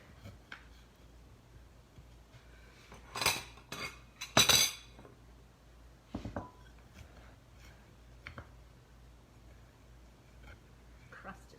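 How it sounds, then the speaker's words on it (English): A knife and server work through a freshly baked quiche Lorraine with a flaky crust, giving a few sharp clinks and scrapes against the dish amid soft handling noise, quiet overall with faint talk. "Let me just cut into this and we can see what it looks like"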